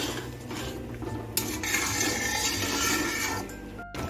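A spoon scraping and stirring katla fish curry with ghee in a pan over a medium flame, with continuous rasping and clinking of utensil against metal, close up.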